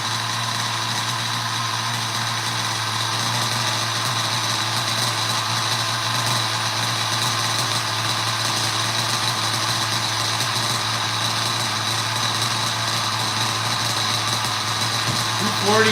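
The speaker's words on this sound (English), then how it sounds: "That's a solid idle for an MGT" The nitro engine of an MGT RC car idles in a steady, continuous buzzing drone that holds at an even level throughout with no break.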